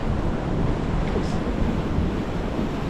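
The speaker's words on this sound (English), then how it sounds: "now we're gonna come up to this other kind of main beach right here" Surf rolling in on a main beach at Uluwatu, Bali, a steady broadband wash of waves mixed with wind buffeting the microphone, continuous and fairly loud with no distinct breaks.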